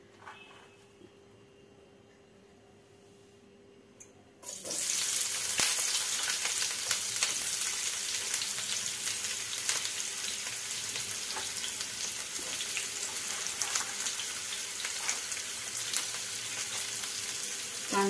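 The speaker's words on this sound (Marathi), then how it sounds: "तेल थोडं तापल्यानंतर त्याच्यामध्ये आपण आता कांदा टाकणार आहोत।" Onion dropped into hot oil in a pan for prawn rice: a quiet stretch ends in a sudden burst of loud, crackling sizzle that carries on steadily, close by with no voices.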